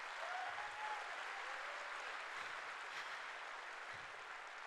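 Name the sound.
audience applause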